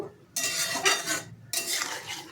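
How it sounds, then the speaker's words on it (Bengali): Moong dal fritters get stirred in a pan, with two long bursts of scraping, shuffling spatula-on-metal noise separated by a brief pause, close and fairly loud. "বড়াগুলো দিয়ে দু তিন মিনিট নাড়াচাড়া করব"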